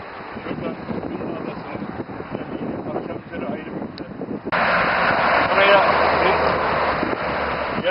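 Strong sea wind gusts rumble against the microphone throughout, growing louder partway through, while a person talks underneath.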